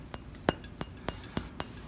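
Glass Christmas ornament being thumped with a finger, giving six quick light clinks at a loose, uneven rhythm, faint and close against a low background hiss.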